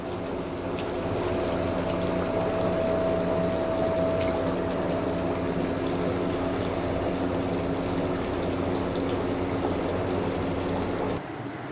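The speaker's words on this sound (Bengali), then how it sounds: "আমি এখন মাছটাকে ঢেলে নেব।" Hilsa fish curry pours into a dish with a steady, continuous liquid rush that holds for about ten seconds, close and moderately loud, then stops abruptly, with no voices.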